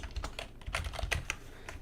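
Fingers type on a computer keyboard, irregular close clicks and clacks of keys in quick uneven bursts with no talking.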